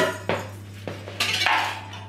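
A whisk knocks against a bowl while muffin batter is mixed, giving a few scattered metallic clinks over a steady low hum.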